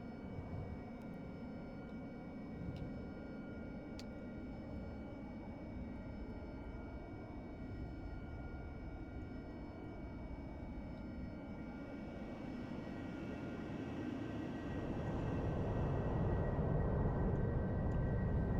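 An AV-8B Harrier jet in the DCS flight simulator game spools up for a short takeoff, its steady engine roar swelling louder and brighter toward the end, with no voices.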